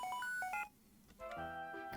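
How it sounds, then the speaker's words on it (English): The X transceiver rings in the Pokemon White video game as a short, bright electronic melody of repeated chiming tones, pausing briefly before the ringing resumes. "The X transceiver is ringing."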